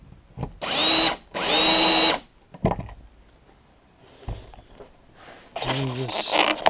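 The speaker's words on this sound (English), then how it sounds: "the easiest way to do this is to simply take 2 screws," A power drill drives two screws through a wooden block in two loud bursts of about a second each, followed by quieter handling noises, a person talking, and a third short burst of drilling near the end.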